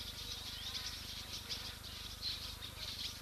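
Wild birds calling at a waterhole, a steady chorus of high chirps and twitters mixed with insect buzzing, continuous and moderately distant against a low background hum.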